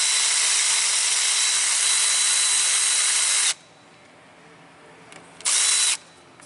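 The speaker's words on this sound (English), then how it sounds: "Alright, so I'll take this bolt out." Power tool removing an exhaust bolt during a catalytic converter replacement on a Nissan Altima, one loud whirring run of about three and a half seconds, a pause, then a short second burst.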